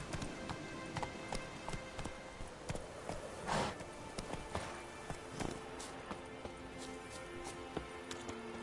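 Rhythmic clip-clop of hooves as the horse Roach gallops through The Witcher 3, steady and close over game ambience, with a brief louder rush of sound midway.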